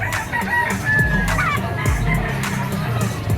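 A yellow-legged stag rooster at the Malabon pet market lets out a loud, close crow, with other chickens clucking and a faint crowd murmuring behind it.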